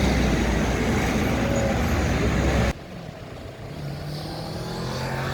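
City traffic in Valencia, Spain, near the Turia riverbed and the Puente de las Flores: a loud, steady roar of passing cars cuts off abruptly to a quieter idling hum as vehicles stop and wait at a red light.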